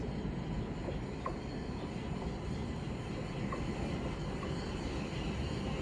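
A five-coach train rumbles steadily at South Bermondsey station at low pitch with a few faint metallic clicks, a constant mechanical drone without voices.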